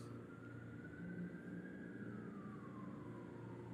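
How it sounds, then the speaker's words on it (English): A faint, distant siren wails along a city street, its tone rising then slowly sliding down over a low steady traffic hum, with no one speaking. "I hear more sirens."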